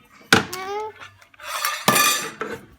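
A cooking pot is handled and set down with a few clanking metal knocks in a home kitchen, close and fairly loud, with brief voices between the clatters.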